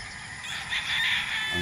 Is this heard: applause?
no